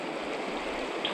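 A river flows through Tabiona Valley, Utah, a steady broadband rush of water that stays constant and fairly close, with no voices.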